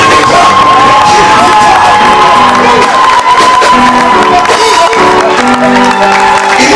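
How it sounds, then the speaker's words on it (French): A church congregation shouting cries of victory and cheering together, a loud, dense, continuous roar of many voices with whoops rising throughout. "pousse des cris de victoire, des cris de victoire"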